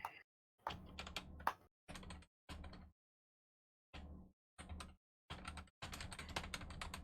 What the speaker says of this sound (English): Let me finish typing this out just for the handout here.